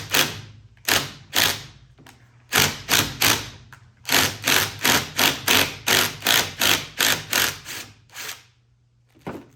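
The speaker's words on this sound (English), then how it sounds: "I'm gonna try tightening a little bit first, then loosen." A roller skate part tightened with a tool gives a close series of sharp, evenly spaced clicking knocks in quick bursts. The knocks pause briefly and then resume in a steady rhythm, with no talk.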